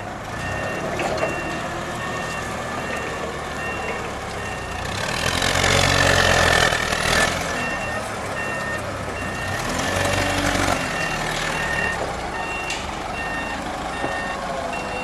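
A 2008 Tailift 5,000-pound cushion-tire forklift reverses in a warehouse, its backup alarm beeping steadily over a rumbling engine that swells louder in the middle.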